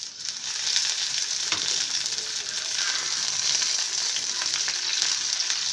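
Masala-coated fish fries in hot oil with a steady, close sizzle that never lets up, and the fish being turned adds a faint scrape and stir partway through. Nobody speaks.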